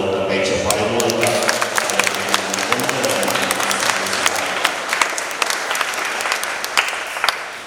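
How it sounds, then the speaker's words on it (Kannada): A big round of applause for the teachers at a First Holy Communion celebration: a crowd claps steadily and densely throughout, with a faint murmur of voices beneath the clapping, fading slightly toward the end. "ನಾವು ದೊಡ್ಡ ಕೈ ಚಪ್ಪಾಳೆ ಮೂಲಕ"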